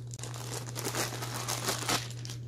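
Scissors cut open the crinkly packaging of a plush toy, giving a run of close rustling, crackling bursts over a steady low hum, with no one talking.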